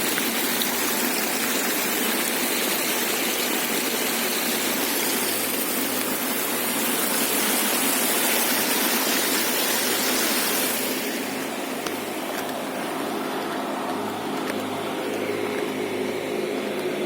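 Wastewater rushes steadily through a channel at a town underground sewage treatment plant feeding the aeration tanks, a loud continuous broadband roar with a slight shift in tone partway through, no voices.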